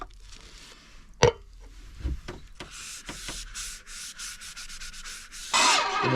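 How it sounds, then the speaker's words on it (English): Scratchy rubbing and sanding friction as sanding sealer is applied to a spinning wooden bowl on a lathe, with a sharp knock early on and a louder burst of abrasive rubbing near the end. "I'm going to put some sanding sealer on."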